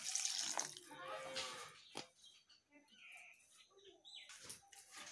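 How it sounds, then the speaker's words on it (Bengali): Water poured into a pan of spinach and mixed vegetables, a close splashing rush for about two seconds, followed by quieter clatter and stirring in the pan. "এবার আমি এখানে জল অ্যাড করছি।"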